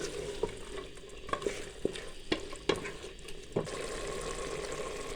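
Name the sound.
stir-frying potatoes with minced meat for aloo qeema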